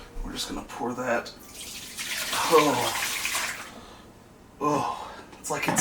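Liquid is poured from an old container while cleaning a filthy Frigidaire dishwasher, giving close, splashy gushes in several bursts with short pauses, and breathy vocal sounds nearby.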